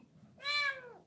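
A pet cat gives a single clear meow indoors, close and moderately loud, rising and then falling in pitch and lasting about half a second.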